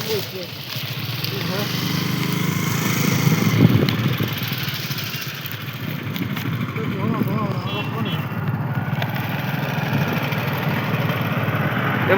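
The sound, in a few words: motorbikes carrying food driving along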